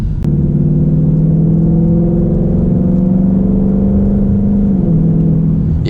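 A 2022 Ford Mustang GT drones steadily while cruising on a sunny day, its engine a constant loud low rumble heard from inside the cabin.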